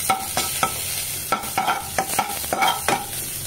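Garlic sautés in a pan with a steady frying sizzle broken by repeated scraping stir strokes, close and moderately loud, with no voices.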